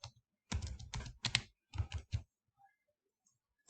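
Quick bursts of computer keyboard typing as a command is entered on a Cisco router console, several rapid clusters of close, crisp key clicks with short pauses between them and no talking.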